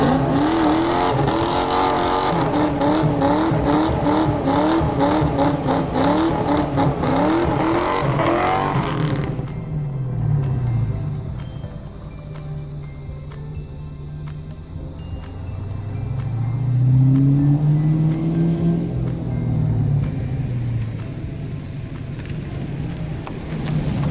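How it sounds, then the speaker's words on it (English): A Ford Mustang Foxbody with an X-pipe exhaust revs loudly and close for the first ten seconds with a raspy, rising engine note, then settles into a lower rumble with a few more throttle blips and swells. "the X-pipe gives the car a different exhaust note that you don't typically hear"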